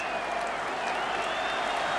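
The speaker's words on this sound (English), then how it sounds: "a big cheer now, which will greet the return of Stan Cummins" Football crowd at a 1984 match applauding and cheering a returning player, a steady, dense wash of clapping and crowd noise heard from a distance throughout.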